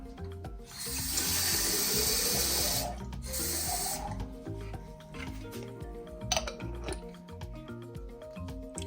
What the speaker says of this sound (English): We're going to go ahead and fill this halfway up with water.